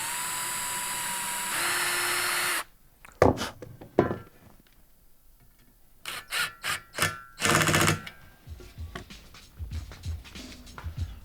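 Power drill driving galvanized screws into timber for an old spade repair, a steady whir for about two seconds followed by several short bursts of drilling and handling clatter, close and fairly loud with no talk.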